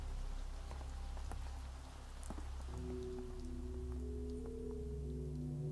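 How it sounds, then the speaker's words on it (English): Rain in the indie video game Where Birds Go to Sleep, a soft steady patter of drops with a low gentle tone rising midway beneath it, faint and alone without talk. "It's raining."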